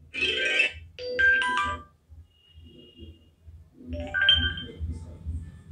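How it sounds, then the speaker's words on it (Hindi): A Poco M3 phone plays its notification ringtone, a bright electronic melody of quick tonal chimes in two phrases with a soft pause between, close and clear over a low background hum. "तो जैसा आपको यहाँ पर नाम देखने को मिल जाता है वैसा ही रिंगटोन है"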